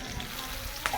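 Unripe jackfruit frying in a pan for a vegetarian dish: a short burst of steady sizzling with a small pop near the end.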